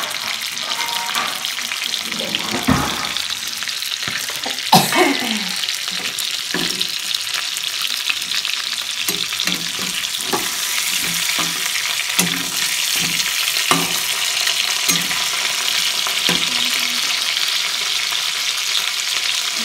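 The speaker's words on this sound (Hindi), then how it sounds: "अच्छी तरह से हमारा चिकन फ्राई हो रहा" Tandoori-style chicken frying in a pan over high heat, a loud continuous sizzle and crackle punctuated by repeated stirring scrapes and knocks, with no voices.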